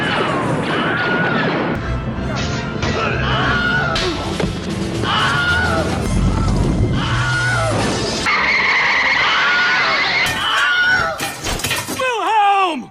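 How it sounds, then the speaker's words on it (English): A movie-style action sequence plays loud crashes, skids and impacts, with screams including the classic Wilhelm scream sound effect, dense and chaotic before a short sharp final yell. "I am going to insert the Wilhelm scream"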